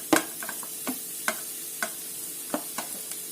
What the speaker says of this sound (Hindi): इसके अंदर हम अपनी गाजर डालेंगे, जिसे हल्का सा 1-2 सेकंड के लिए चलाएंगे।